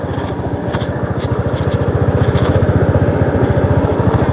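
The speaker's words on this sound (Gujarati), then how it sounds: "નીકળ્યા છીએ બાઇક પર" Loud, close motorcycle engine running steadily with a rapid pulsing throb that builds slightly as the bike rides along.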